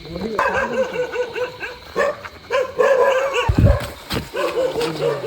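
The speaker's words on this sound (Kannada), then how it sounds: "ನಾಯಿ ಬೇ" At night during a mud crab hunt, a dog gives a string of close, loud barks and yips, with people talking nearby.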